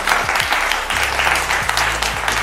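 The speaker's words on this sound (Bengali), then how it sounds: "অসাধারণ, এটা স্পেশাল হাততালি" A Valentine's special family game show audience bursts into a short, dense round of clapping that runs throughout, with voices faintly beneath.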